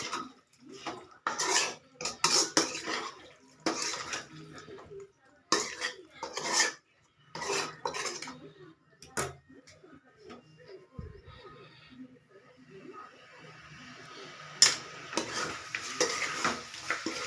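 Spicy chilli chicken stirred and fried in oil, with repeated scraping and clanking of a utensil against the pan in bursts, a soft sizzle running underneath, and brief quieter stretches.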